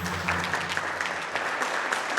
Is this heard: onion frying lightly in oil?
no